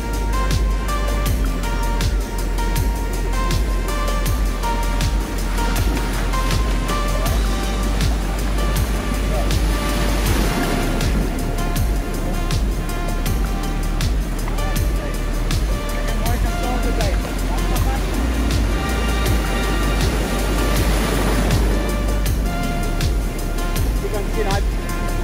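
Ocean surf rolls steadily onto the shore and washes over a landed fish in a continuous wash of waves and rumble, while someone talks over it.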